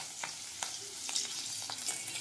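Split green chilies crackle in hot oil with black cumin, a dense close sizzle with several sharp pops and stirring clicks, no voices.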